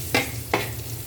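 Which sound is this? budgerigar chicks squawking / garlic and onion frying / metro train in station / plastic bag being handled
garlic and onion frying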